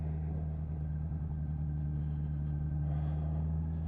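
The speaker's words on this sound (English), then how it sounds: "we'll give it a third gear roll on down the hill" A 2023 Honda CB650R Neo Sports Cafe motorcycle rolls downhill in third gear, its engine a steady, even low drone with no talking.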